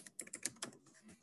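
Typing on a computer keyboard: a quick, irregular run of light key clicks, faint and close, over just over a second.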